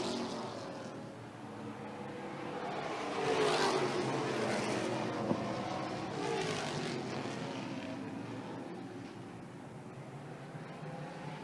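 NASCAR Pinty's Series stock cars race at Autodrome Saint-Eustache, their engines droning at a distance, the sound rising as a pack passes and then easing into a lower steady roar.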